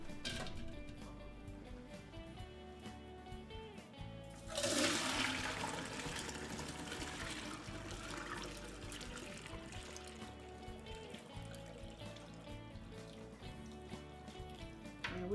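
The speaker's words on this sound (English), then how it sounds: "you gonna pour the milk" Milk poured through a strainer in a kitchen, a steady liquid splash and trickle that starts abruptly and continues alongside a faint background hum.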